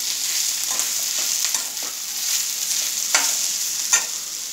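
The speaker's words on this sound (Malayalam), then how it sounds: "നമ്മുടെ കോവയ്ക്ക ഇപ്പോൾ ഹാഫിൽ കൂടുതൽ ഫ്രൈ ആയിട്ടുണ്ട്." Ivy gourd (kovakka) pieces frying in oil in a pan for a chilli fry: a constant close, bright sizzle with a few soft stirring knocks scattered through it, no voices.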